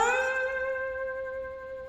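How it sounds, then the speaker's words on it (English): A Dobro resonator guitar sampled from the Nathan Chapman pack rings out on a single plucked note, its metallic twang decaying slowly into a sustained, slightly wavering tone, alone and fairly close. "Also in the Nathan Chapman pack was the Dobro,"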